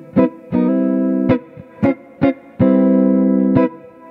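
A clean-tone electric guitar played through an AMP1 amp with two reverbs stacked rings out in short plucked notes and longer held chords, each trailing a smooth, lingering tail, loud and close.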